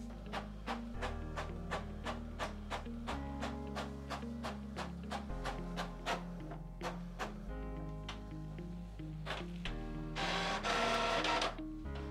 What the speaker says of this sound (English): So I'm gonna print 24 pages, double-sided